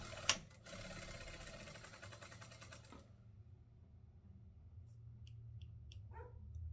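A sewing machine stitches an oven mitt in a steady mechanical whir with a sharp clack at the start, running about three seconds before stopping; faint small knocks follow in the quiet afterward.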